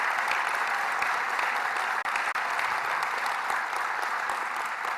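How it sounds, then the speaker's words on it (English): Sustained, dense applause from a large audience for the Saab team at an announcement event for a fighter jet plant near Purdue University, steady and loud throughout with no speech over it. "Let's give them another warm round of applause."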